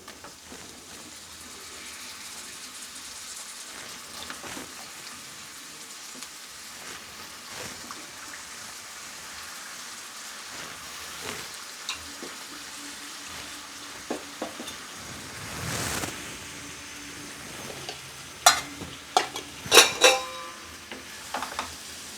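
Brinjal fries in a pan with a faint, continuous sizzle, punctuated by occasional soft scrapes and a cluster of clinking stirs toward the end, quiet and close.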